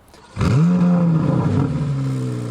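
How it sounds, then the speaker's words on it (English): A 2023 Corvette Z06 revs up sharply, its throaty exhaust note rising then settling into a steady idle hum, close and loud. "This floating design was key to the precise tuning in the exhaust note."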